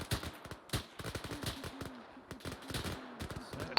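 Rapid bursts of video game gunfire, machine-gun style shots in uneven clusters, loud and close throughout with brief gaps between volleys.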